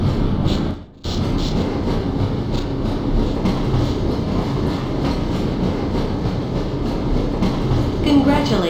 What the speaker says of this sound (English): Press your forward and backward keys to increase or decrease the speed of the train.